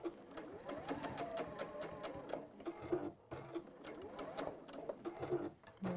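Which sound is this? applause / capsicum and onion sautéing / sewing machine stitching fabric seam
sewing machine stitching fabric seam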